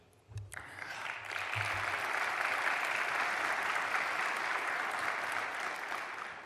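Audience applause at a regional Foro Madrid political forum in Argentina, greeting a government spokesman; a few sharp claps open, then dense, sustained clapping from a large crowd swells and holds steady throughout.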